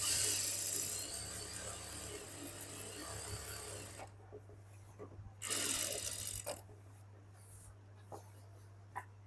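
Sewing machine stitching a salwar, a steady mechanical whir for the first four seconds, then stopping, with a brief burst of running again midway and faint clicks after.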